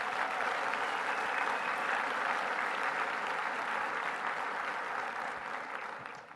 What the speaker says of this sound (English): Let's give Reuben another round of applause.